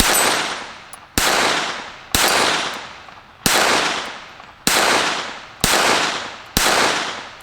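A KelTec P17 .22LR pistol fired outdoors, seven sharp loud shots spaced about a second apart, each ringing out in a decaying echo, with no voices.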